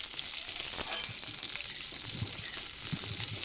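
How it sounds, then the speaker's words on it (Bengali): Washed potatoes, skins left on, sizzle steadily in hot oil, being lightly fried with occasional stirring; a continuous bright crackle with soft low clinks now and then, no voices. "তারপর ধুয়ে রাখা আলুগুলোকে তেলের মধ্যে দিয়ে দিলাম।"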